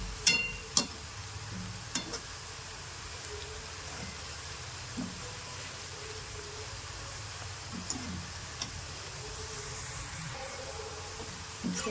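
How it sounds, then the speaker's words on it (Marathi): Onions fry in hot oil for chicken dum biryani while being stirred continuously, a soft steady sizzle broken by occasional sharp scrapes and taps of the spoon against the pan. "अशा पद्धतीने आपला कांदा तळत आहे आणि याला कंटिन्यू हलवायचं आहे जेणेकरून तो कांदा जळणार नाही"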